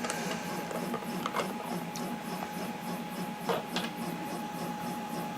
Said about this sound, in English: now opening the screw that holds on the electronics cover